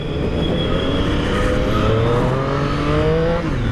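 A 2017 Triumph Street Triple S with its 765cc three-cylinder engine accelerates hard, a loud, continuous engine note climbing steadily in pitch from close by, with no talking.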